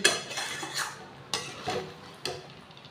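Cashew chicken being stirred in a cooking pan: a metal utensil clinks sharply against the pan three times at a steady pace, with a soft sizzling background and no talk.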